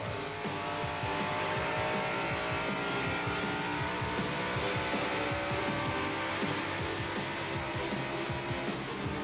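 A field of NASCAR Winston Cup stock cars roaring around North Carolina Motor Speedway in Rockingham at the 1991 Goodwrench 500, a loud continuous engine drone with overlapping passes and throttle swells, no voices.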